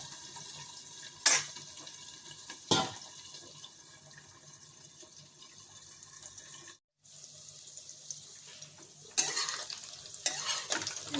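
Potatoes and brinjal frying in a pan with little oil make a soft, continuous hiss, broken by a few louder scraping bursts of stirring and a short gap.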